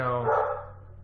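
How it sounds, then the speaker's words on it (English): A dog barking indoors: one drawn-out, whining bark that fades away, close to the listener, with no talk over it. "please excuse my dog. He's very unhappy."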